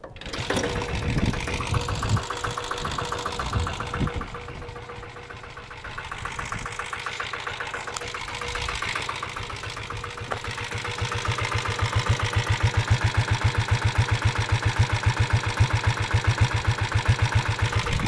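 A diesel Royal Enfield Taurus motorcycle is kicked over and its single-cylinder engine catches, settling into a loud, steady, knocking idle that thuds rhythmically and grows slightly stronger toward the end.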